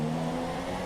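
A Renault Formula 1 car in the F1 2017 game slowing into the pits, its engine a steady loud droning hum with a smooth tonal whine, continuous through the brief moment.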